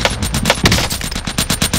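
Rapid automatic gunfire in Warzone, a dense, close rattle of shots in quick pulsing bursts with no pauses.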